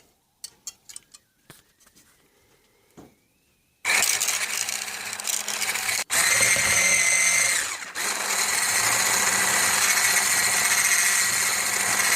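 After a few light clicks and taps, a blender motor kicks in with a loud, steady high-pitched whir whipping butter, running continuously, dipping briefly before resuming.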